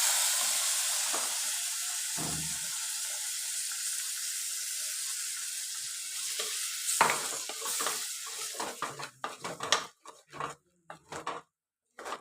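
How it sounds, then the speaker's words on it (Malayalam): Tomatoes hit a hot frying pan while rasam is cooked with pepper powder, giving a steady loud sizzle and hiss, then breaking into scraping, clattering stirring strokes as the frying dies down. "ഇനി നമുക്ക് തക്കാളി ഒഴിച്ചു കൊടുക്കാം കേട്ടോ."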